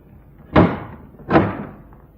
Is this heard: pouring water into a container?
no